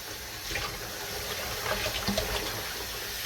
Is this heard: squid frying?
no